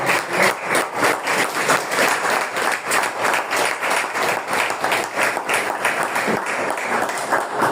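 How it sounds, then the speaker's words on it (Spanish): A church congregation claps together throughout a worship service, producing a dense, steady wash of many hands that stays loud and even from start to finish with no talking on top. "Dale palmas a Dios, iglesia."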